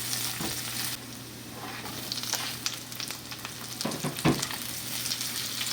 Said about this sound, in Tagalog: Sunod naman ay magigisa tayo ng bawang at sibuyas.